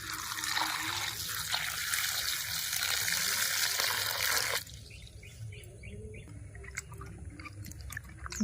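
Water poured over ripe bitter gourd for washing, a loud steady gushing stream that stops abruptly partway through, leaving light trickles and faint bird chirps in the background.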